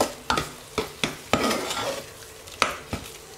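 Spoon stirring sugar through thick cooked chana dal in a pot, a run of sharp scraping strokes roughly every half second, close and clear with no talk.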